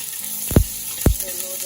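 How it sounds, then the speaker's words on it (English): Garlic frying in a little oil for a red snapper and yam dish, a soft steady sizzle with two brief louder stirring or scraping sounds, close and without talk. "So I'm gonna put a little garlic to the top, just very little oil."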